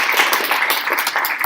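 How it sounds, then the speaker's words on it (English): A small group at an education advisory council meeting gives a brief round of applause, with dense, quick clapping that stays fairly loud and close throughout. "let's give a round of applause,"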